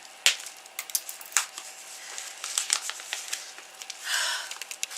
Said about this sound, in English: This tape shouldn't be this difficult.